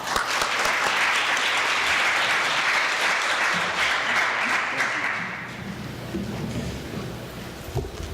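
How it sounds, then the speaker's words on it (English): Audience applause fills the room welcoming Dr. David Carruthers to a Saturday-morning talk on environmental justice at the US-Mexico border, steady and dense for about five seconds before thinning out into scattered claps and room noise. "I would like to welcome Dr. David Carruthers with a warm round of applause."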